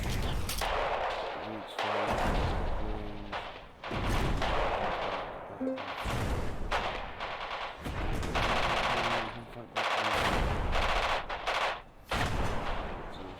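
Video game battle in Radio General: dense machine-gun bursts and booming artillery fire roll on continuously, loud and layered, with short lulls between volleys.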